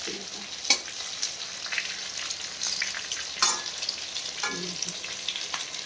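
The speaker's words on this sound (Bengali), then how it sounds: "এরকমভাবে আস্তে আস্তে ভাজতে হবে" Potato-stuffed capsicum frying slowly in a pan: a steady, close sizzle of hot oil, with occasional stirring clatters and scrapes breaking through.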